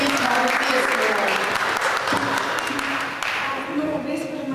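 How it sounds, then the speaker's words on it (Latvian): Audience clapping for a performer at a school event, a dense burst of applause that gradually thins out, with a voice speaking over it. "sagaidām Renāte Klūva ar aplausiem"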